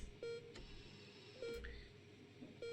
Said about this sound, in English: The rhythmic beeping of the heart monitor brings you slowly back to consciousness.